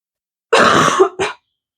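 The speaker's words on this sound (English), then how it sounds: "Sorry, still have a bit of a cough." A single hoarse cough followed by a shorter second one, close and loud, breaking out of a quiet background.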